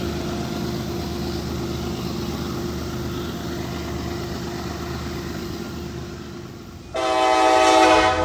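A freight train rumbles steadily past at Thurmond on a coal route, then a loud, close horn blast cuts in near the end with sharp tonal bands over the rolling noise.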